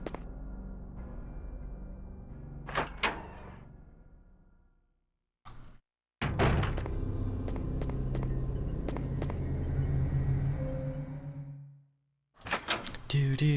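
An in-game door in Resident Evil opens with a couple of short knocks and a heavy thunk, framed by brief silences and low ambient game sound, with a voice speaking over parts of it.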